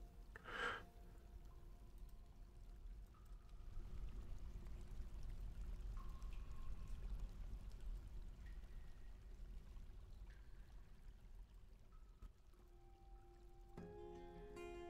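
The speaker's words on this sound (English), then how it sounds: "So we've got plenty of room for the water to disperse." Water flows and spreads through open space in the Dwarf Fortress video game, a steady, fairly quiet pouring rush that holds for the whole stretch, with a few soft tonal blips above it.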